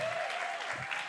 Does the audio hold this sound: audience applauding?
yes